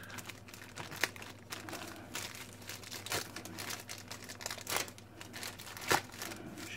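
A plastic parts bag from a Tamiya 1/12 Yamaha YZF R1 Taira Racing Edition model kit crinkles and crackles as it is handled, faint and close, with irregular rustles and a few sharper crunches.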